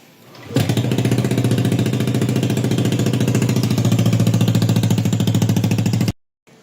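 A Yamaha Aerox v2 scooter fitted with a Zeus Apollo v3 exhaust pipe, silencer installed, kicks into a loud, close, steady idle with a rapid pulsing beat that holds for several seconds, then cuts off abruptly.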